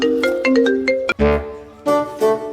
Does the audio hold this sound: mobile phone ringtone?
yes